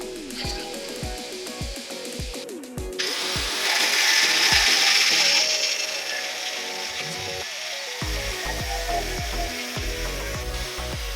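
A steel bar being cut in two while preparing a 130-layer Damascus knife in a forge workshop: repeated sharp metallic knocks and scraping, with a loud, continuous power-tool grinding whine swelling in the middle and persisting throughout.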